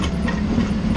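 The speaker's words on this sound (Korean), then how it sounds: "현장음을 살리기 위해서 지게차 소리를 줄이지 않았습니다." A forklift stuck inside a vinyl greenhouse runs its engine loud and close, a steady low rumbling drone with a faint rattling texture that fills the space without a break.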